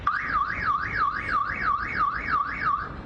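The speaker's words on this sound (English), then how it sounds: "Not only does this robot sound an alarm" An NYPD patrol robot's alarm wails in a fast, even rising-and-falling electronic tone, repeating about nine cycles in steady rhythm, loud and close with nothing else over it.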